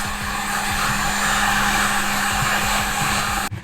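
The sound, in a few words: heat gun heating carbon fiber door trim adhesive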